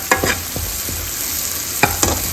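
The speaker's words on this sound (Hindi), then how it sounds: "इधर लगा रही हूँ दाल का तड़का" Dal tempering sizzling and crackling in a hot pan, with a few sharp spatters and stirring scrapes against steady background hiss.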